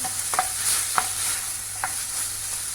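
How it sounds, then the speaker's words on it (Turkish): Chicken pieces sauté in a pan for a mushroom dish, with a soft steady sizzle and a few sharp scrapes of stirring, close and clear, no talk. "Bu şekilde kavuruyoruz, kavuruyoruz."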